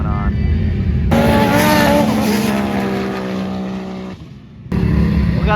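Toyota Tacoma and Ford Ranger UTVs roar in a pro drag race at a Sand Hollow UTV takeover, a loud revving engine climbing in pitch before cutting off abruptly, with voices present.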